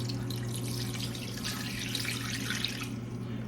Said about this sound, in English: We're gonna put a little water in the bottom here